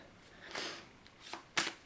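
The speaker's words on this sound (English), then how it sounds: "the overhand method of shuffling doesn't randomize the cards as much as the other 2 methods of shuffling" Tarot cards shuffled overhand, with soft close riffling and flicking bursts as small packets drop from the top, three quiet bursts in under two seconds.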